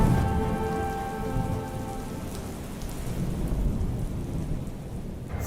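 Steady rain falling outdoors, a dense continuous hiss of drops on surfaces that stays even and fairly loud throughout, with a faint tonal hum fading out early on.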